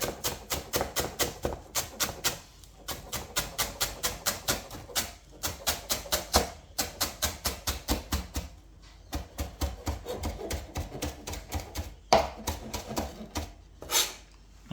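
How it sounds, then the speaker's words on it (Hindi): Fresh coriander being chopped with a knife on a board, a rapid run of sharp, close taps in quick bursts with brief pauses between them. "I will chop fresh coriander."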